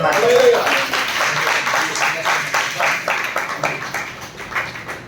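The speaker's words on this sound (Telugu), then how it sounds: "గట్టిగా చప్పట్లు పడితే" A church congregation at a Sunday prayer service in Amadalavalasa, Srikakulam, India claps together in a steady, rhythmic burst of applause, moderately loud and sustained over several seconds, with a voice speaking briefly at the start.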